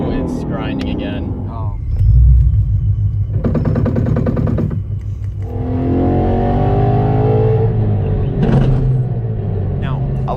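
A Ford Mustang with a Coyote engine and an MT82 manual transmission shifts with rough grinding bursts amid loud engine rumble and revving, with someone speaking in between.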